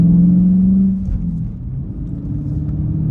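A deep Dodge Challenger SRT 392 muscle car engine rumbles loudly and steadily nearby, dipping briefly before settling into a low, throaty idle.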